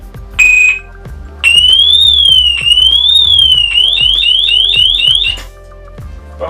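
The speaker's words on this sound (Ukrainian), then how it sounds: "для того, щоб вимкнути сигналізацію, можна скористатися ключем або почекати 15-20 секунд" An ABUS 8077 Granit Detecto X-Plus motorcycle disc lock alarm shrieks in rising and falling sweeping tones, then chirps in quick repeated bursts before stopping, with clicks underneath.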